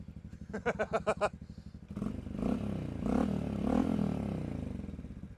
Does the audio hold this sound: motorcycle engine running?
yes